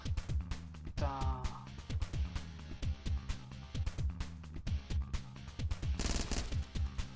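Rapid bursts of automatic Uzi gunfire in a video game crack in quick succession, with short pauses between volleys and a brief electronic tone partway through.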